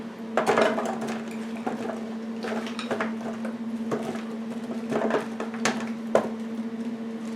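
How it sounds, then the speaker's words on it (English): Oiled vegetables dumped into a pan with layered bacon, producing a run of rattling thuds and clattering pieces against metal over a steady appliance hum, close and moderately loud. "I'm going to go ahead and dump in my vegetables that I put a little bit of oil in"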